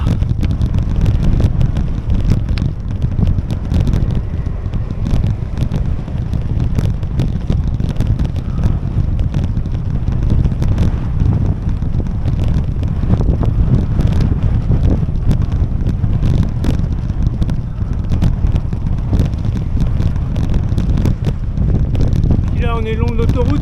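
Strong wind roars constantly across the microphone of a cyclist climbing uphill beside a motorway on the Camino Francés in Spain, a loud, unbroken buffeting rumble.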